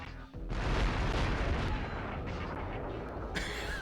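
A video game explosion in Future Cop: L.A.P.D., a sudden heavy booming blast that rolls on as a dense, loud rumble for several seconds, with a brighter crackling burst near the end.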